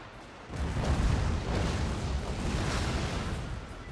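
Ninja bombs exploding in the Fall of Samurai strategy video game, a sudden low rumbling blast that rolls into a sustained thundering roar of overlapping detonations, loud and continuous.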